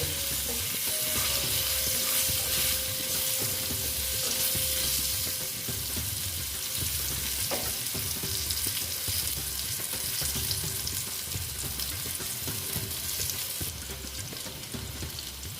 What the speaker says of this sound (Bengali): হলুদ দিয়ে দিচ্ছি দিয়ে আলুগুলো ফিফটি পার্সেন্ট ভেজে নেব